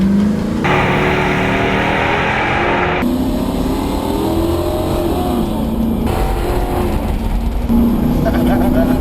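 Two police cruisers, a Chevy Caprice and a Ford Crown Victoria, drag racing, engines roaring loud and close as they rev hard and climb through gear shifts, steady and unbroken throughout.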